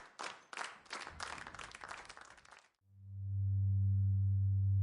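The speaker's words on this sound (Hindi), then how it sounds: "भीड़ तालियां बजा रही है।" A crowd claps steadily at the ribbon cutting of a new village clinic, a dense burst of applause lasting a few seconds before it cuts off and a loud, sustained low tone takes over.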